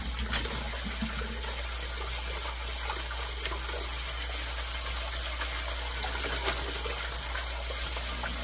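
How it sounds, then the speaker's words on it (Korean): Running water rinses water dropwort (minari) greens, a loud continuous gushing wash close by, steady throughout. "미나리는 깨끗이 씻은 거니까 세 번만 헹구겠습니다."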